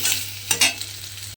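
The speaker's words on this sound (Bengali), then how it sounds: "দিয়ে এবার আলুটাকেও একটু লাল করে ভেজে নেব।" Potatoes frying in a pan alongside bitter gourd, a quiet continuous sizzle broken by two short scraping stirs of a spatula near the middle.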